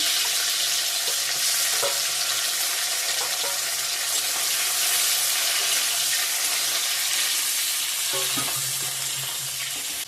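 Tomato fries in hot oil with panch phoron spices and ginger, giving a loud, steady, close sizzle throughout, with occasional faint utensil clinks.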